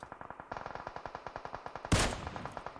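Rapid automatic gunfire in PUBG Mobile on the Erangel map, a steady fast burst of close, sharp shots ending in a louder impact crash.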